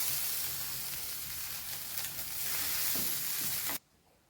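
Fish roasts in a hot pan over a medium flame. A steady close sizzle and hiss carries a few louder crackles, then cuts off abruptly near the end.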